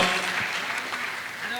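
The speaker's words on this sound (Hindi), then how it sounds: "एक बार जोरदार तालियां होनी चाहिए" Dense applause from a large audience at a religious discourse gathering, a steady wash of clapping with a loud, sustained roar throughout the short moment.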